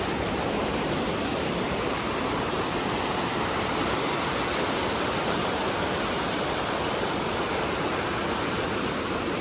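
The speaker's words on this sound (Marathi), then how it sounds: "मस्त इथं नदी आहे, पाण्यात पाय टाकलाय आम्ही." Steady broadband rush of river water flowing near a temple at Palasdari, Khopoli, continuous and loud with no pauses, as if close to the stream where feet are dipped in.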